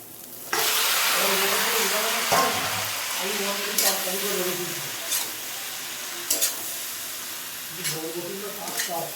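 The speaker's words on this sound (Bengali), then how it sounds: "দেখো মশলাটা দিয়ে আমি পাস্তাটা ভালো করে ভেজে নিয়েছি" Pasta being fried and stirred with Maggi spice mix in a pan gives a loud, steady sizzle that starts abruptly, with repeated scraping clinks from stirring and speech over it.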